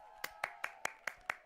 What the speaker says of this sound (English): I keep forgetting to do the big applause